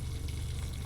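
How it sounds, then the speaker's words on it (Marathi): Cumin, mustard seeds and curry leaves sizzle in hot oil as a tempering for raw mango chutney, a close, continuous crackling fry with no talk. "मस्त अशी फोडणी करून घ्यायची आहे चटणीला"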